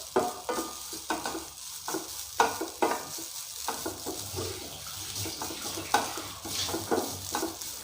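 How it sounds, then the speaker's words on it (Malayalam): Grated coconut and avil fry in a little coconut oil on a low flame, a close, gentle sizzle broken by repeated rhythmic stirring scrapes of a spoon against the pan. "ചെറിയ ഫ്ലെയിമിൽ വെച്ച് നമുക്കിതൊന്ന് ഫ്രൈ ചെയ്തെടുക്കാം"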